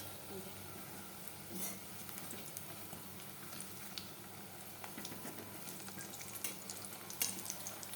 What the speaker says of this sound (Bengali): এখন এই যে বেগুনিটা ভাজছি।